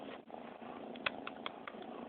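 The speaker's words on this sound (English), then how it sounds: "Now Blackfoot's purring too" Tiny kitten purring very softly and close, a faint continuous rumble broken by a few small clicks.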